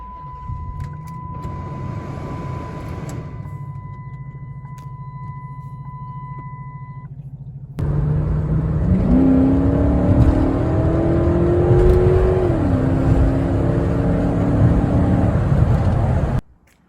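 A 2006 Chrysler 300C Hemi idles steadily, then its engine note jumps louder and climbs through rising revs before settling, with no talking.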